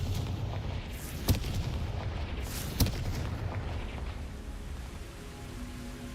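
Two sharp, brief fire-spell blasts from the Confringo spell in Hogwarts Legacy, a few seconds apart, cut through a steady low rumble of in-game ambience at moderate volume.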